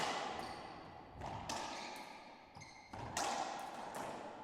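Ping pong ball in a table tennis quarterfinal match, skipping off the table edge, heard as a few quiet, sharp taps and thuds spaced irregularly against a faint hall background.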